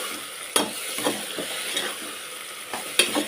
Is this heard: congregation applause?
no